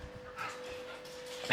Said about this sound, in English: let's play a little bit with the dogs, but they are going crazy